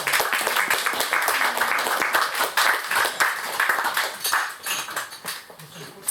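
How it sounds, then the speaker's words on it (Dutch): An audience claps after a reading, dense overlapping applause that stays strong and steady before loosening into thinner, scattered claps toward the end. "Als je geen applaus vraagt, wordt er harder geklapt hoor."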